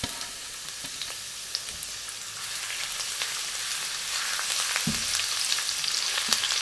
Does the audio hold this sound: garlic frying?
yes